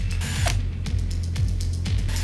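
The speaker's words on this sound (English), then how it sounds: "Using some candle wax, I can set the screws in and just hand screw those in." Screws being driven by hand into a semi-hollow Tele-style guitar body, the threads eased with candle wax, giving close repeated ratcheting clicks and short creaks in a quick irregular rhythm.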